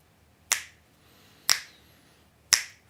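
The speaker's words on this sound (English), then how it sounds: "So you can join me in snapping your fingers." Three crisp, close finger snaps ring out about a second apart, evenly spaced in a quiet room during a live Buddhist meditation session.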